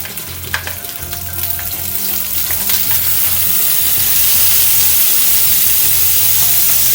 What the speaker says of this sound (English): so we're just going to fry the paneer